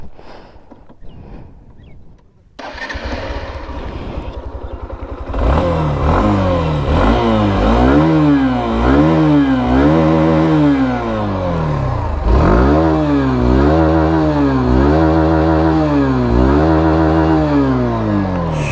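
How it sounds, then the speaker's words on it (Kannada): Hero Xtreme 160R motorcycle starting and revving in place, its exhaust note rising and falling in repeated loud throttle blips after a short low idle, close by with no talk. "ಸೊ ಇದ್ರದ್ದು ಎಕ್ಸಾಸ್ಟ್ ನೋಟ."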